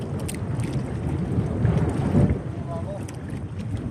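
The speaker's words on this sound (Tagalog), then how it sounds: "Pagkalakas ng hangin, grabe" Strong wind roars across open water from a small boat out crab trapping in the shallows, buffeting the microphone in a steady rumble with a brief gust swell, while voices speak faintly beneath.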